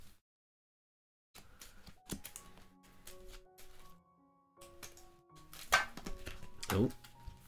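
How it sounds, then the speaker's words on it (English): Cards for the Undaunted Stalingrad board game are shuffled at a table, with irregular clicking riffles and brief flurries of card contact, close and fairly quiet, with a short burst of voices among them. "I'm really good at shuffling."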